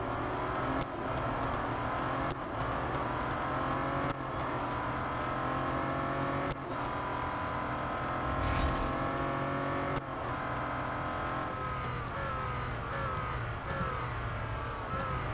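Bentley Continental GT Speed engine in the racing game Real Racing 3, a loud steady engine drone with shifting revs and gear changes throughout, heard alone without talk.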